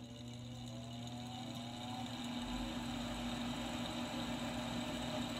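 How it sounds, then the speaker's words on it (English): A Goodman/Amana furnace motor runs steadily with a constant hum and a low rumble that rises partway through, a fault suspected after water got into the furnace; no one speaks. "Motor doesn't sound too good."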